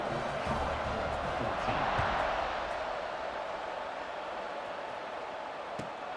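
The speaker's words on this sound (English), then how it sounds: "this crowd is buzzing after that last score" A football stadium crowd buzzing after a score at a game: a steady, dense roar of many voices, moderately far off and continuous throughout, with no single sound standing out.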